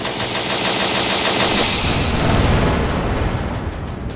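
Rapid machine-gun bursts and heavier booms in the war game Syrian Warfare, loud and dense, continuing for several seconds with no voices.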